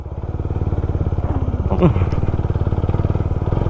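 A Suzuki Raider 150 motorcycle fitted with a Vmax racing exhaust pipe idles nearby with a steady, rapid pulsing putter, one brief blip of revs midway; someone talks over it.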